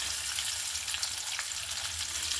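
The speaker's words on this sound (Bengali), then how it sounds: "পেঁয়াজটাও ভাজবো।" Onions sizzle steadily in a hot frying pan, a close, even crackle of frying with no talk, holding the same level throughout.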